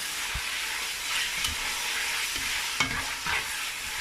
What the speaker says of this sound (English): just give it a very good mix.